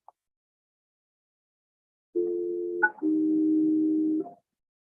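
A telephone call is placed during a remote court session, with a steady two-tone dial or network tone sounding for about a second, a brief blip, then a longer tone before cutting off, clear and alone.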